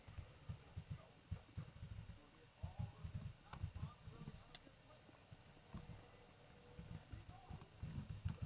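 Horse hooves clip-clop in a steady rhythm through a video game, moderately loud, with players talking over the footsteps.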